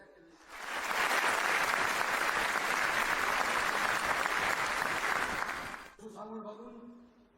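A large crowd at the closing of the 18th Pyongyang International Film Festival bursts into loud, sustained applause that holds steady for several seconds before fading, followed by a brief spoken voice.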